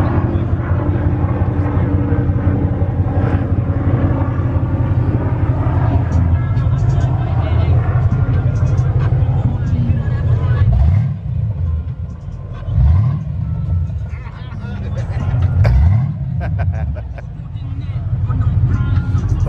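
A Lamborghini Aventador idles loudly nearby, then gets several sharp throttle blips that rise and fall in quick succession, with people talking over the rumble.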